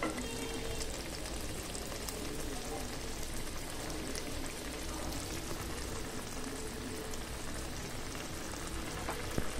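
Curry sautés in a pan before cauliflower goes in, a steady crackling sizzle with faint spattering. It continues evenly at moderate volume, closing with a brief clatter.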